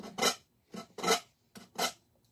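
Sanding a paper placemat door hanger by hand: three rasping strokes in a steady back-and-forth rhythm, each a short scratchy burst with brief pauses between, close and moderately quiet.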